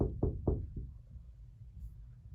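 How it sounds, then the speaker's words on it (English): A quiet little knock at a door, four soft raps in quick succession fading away, close and alone without speech. "Mr. Cream heard a quiet little knock at the door"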